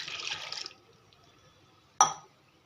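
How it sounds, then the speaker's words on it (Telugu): Water is poured into a glass to mix a ragi flour drink. A short, soft splashing pour is followed by silence, then a single sharp clink of glass, all faint and close. "ఇంకొక హాఫ్ గ్లాసు వేస్తున్నాను."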